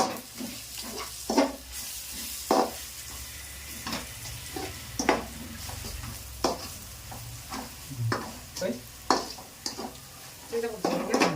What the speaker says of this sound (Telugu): నేను ఒక రౌండ్ కలుపుతా దీన్ని